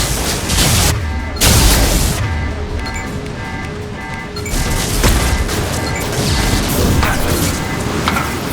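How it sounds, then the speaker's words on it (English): Flashbang grenade blast in the video game Mass Effect Legendary Edition, a loud close crash that swells into a sustained roaring burst with overlapping thuds and noise, dense game sound throughout. "Watch out, flashbang!"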